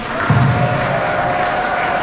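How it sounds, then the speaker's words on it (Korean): Wedding guests in a hall clap and cheer loudly for the bride and groom, a dense, unbroken roar of applause mixed with crowd shouts that holds steady from start to finish. "오늘 신랑 신부를 위해서 박수와 함성 다시 한번 크게 부탁드리겠습니다"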